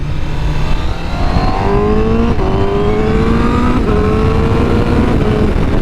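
A 2021 Honda CBR1000RR-R Fireblade SP superbike accelerates hard on the road, its engine note rising and stepping up through quick-shifted gear changes, loud and close with wind noise, no talking.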